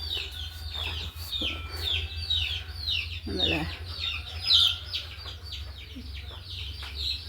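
Native chicken chicks and Mani duck chicks peeping in a steady stream of high, shrill chirps, with occasional clucks beneath, against a low steady hum and a brief spoken remark.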